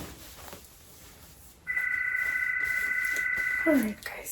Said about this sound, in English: I think my son is calling, so let me listen to that phone call